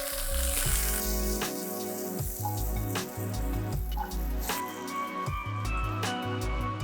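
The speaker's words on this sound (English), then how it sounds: "I'm going to add sliced green chilli and saute it for few minutes" Sliced green chilli sautés in a hot pan with a steady crackling sizzle, while music with a strong, regular beat plays loudly over it.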